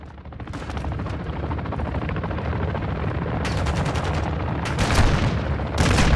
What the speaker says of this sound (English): Be advised, enemy attack helo is heading your way.